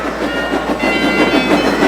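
Loud, close steam train pulling into a station, its wheels clattering in a steady, rhythmic pattern throughout.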